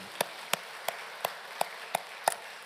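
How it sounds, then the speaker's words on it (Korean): A church congregation at a Sunday morning worship service claps in a slow, sparse rhythm, seven distinct sharp claps spaced evenly, faint and moderately distant, with no talking over them. "하나님께 감사의 박수 올려드립시다"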